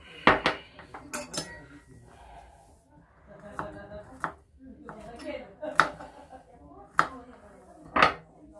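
Knife chopping turkey wings into small rounds on a cutting board: sharp, irregular knocks and clinks, close and distinct, spaced over several seconds with quiet gaps between.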